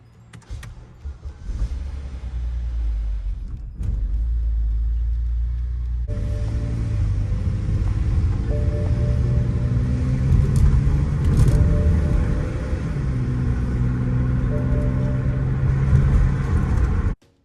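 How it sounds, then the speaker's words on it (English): A BMW E70 X5 with the N52 inline-six cranks briefly, then fires and settles into a steady, smooth idle rumble heard close up for several seconds after a repair. "We're gonna start the engine up."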